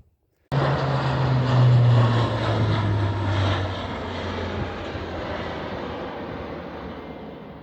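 RAF military training jet roaring low over a fell, bursting in suddenly and loud, peaking within a couple of seconds, then slowly fading into a long rumbling tail as it recedes; no talk.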